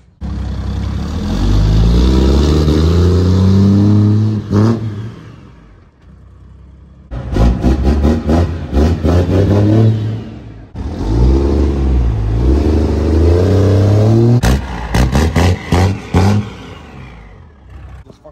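A manual-transmission 5th gen Cummins diesel pickup truck accelerating hard, loud and close, in three long revving pulls with rising engine tones separated by brief shift pauses and clattering gaps.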